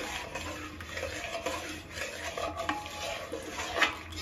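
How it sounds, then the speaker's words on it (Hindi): Rice simmers in milk for kheer over a medium flame while a spoon stirs and scrapes against the pot, irregular clinks and soft sloshing under a faint background hiss, close by and without speech. "चावल डालने के बाद इसे हम मीडियम फ्लेम पे ऐसे ही चलाते रहेंगे"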